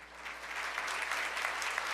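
A room full of people gives sustained applause at a disability employment awareness celebration, a dense, steady wash of many hands clapping at moderate level, with no one speaking over it.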